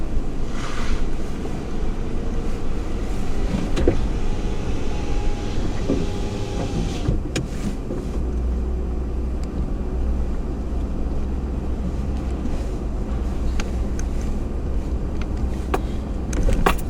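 A new truck driving along a rough private access road on rural Prince Edward Island land, with a continuous engine drone, bumping and rattling of the body, and occasional scraping knocks from brush or rocks.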